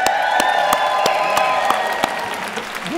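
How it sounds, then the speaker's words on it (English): Crowd of conference attendees in a morning meeting hall applauding and cheering, steady dense clapping with sharp individual claps standing out, loud and continuous throughout. "would you cheer when I mention the region?"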